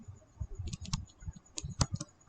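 Someone types on a computer keyboard nearby, producing a brief, irregular patter of soft, light key clicks with small gaps between strokes and no talking.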